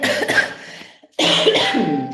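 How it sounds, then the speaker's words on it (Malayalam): Coughing in two rough bursts with a short pause between them, close and fairly loud, with no talking. "പക്ഷേ ചുമ എന്നിട്ട് മാറി മാറുന്നില്ല"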